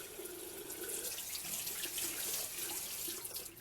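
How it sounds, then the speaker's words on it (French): Tap water runs steadily into a sink while a makeup brush is rinsed under it, a soft, close hiss that keeps going without a break. "je rince juste le pinceau"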